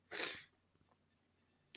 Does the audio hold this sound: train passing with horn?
no